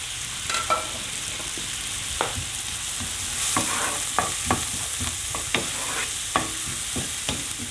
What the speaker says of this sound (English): Put the onions straight away so the butter doesn't start burning.